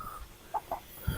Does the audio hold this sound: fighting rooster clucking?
yes